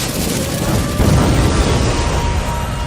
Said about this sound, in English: Fire style! Flame bomb!